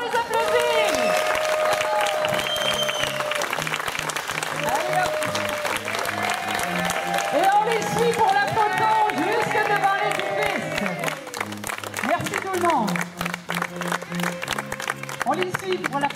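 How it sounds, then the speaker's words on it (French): Wedding guests applaud a newly married couple at a ceremony in Rosemère, Québec, with steady clapping and crowd noise throughout, string-trio music and voices mixed underneath. "On les applaudit!"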